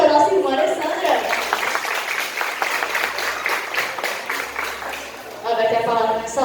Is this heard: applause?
yes